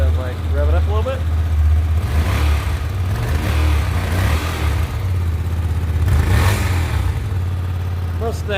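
Stock-exhaust 2016 Hyosung GT250R motorcycle running close by, the engine note climbing and falling in a couple of short revs over a steady idle, with some speech mixed in.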